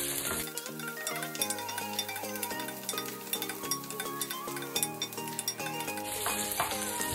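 Onion and ginger sauté in a pan as the base for Filipino crab in coconut milk, with a steady close sizzle and occasional clinks of a utensil, all under a continuous tonal background.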